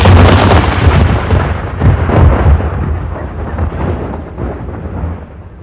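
A loud, rumbling explosion booms through a fantasy battle scene, a sustained roar of blasts and thunderous crackle that slowly fades over several seconds with no voice.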